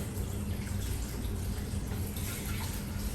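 Water steadily poured into the container of a BEERMKR home brewing machine, a continuous broadband splashing rush that stays even and close for the whole stretch with no talking.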